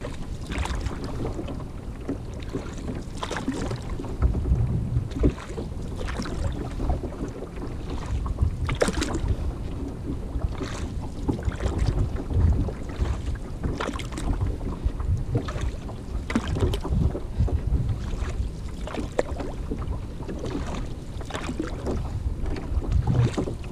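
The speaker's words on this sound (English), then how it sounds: "just out for a nice quiet evening paddle" A canoe glides across a quiet wilderness lake, with soft repeated paddle strokes and gentle water splashes under steady wind rumble against the microphone, and no one talking.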